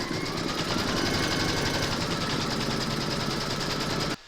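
Embroidery machine stitching a placement outline for batting on a witch's hat design, a fast, even mechanical rattle running loud and close before stopping abruptly near the end.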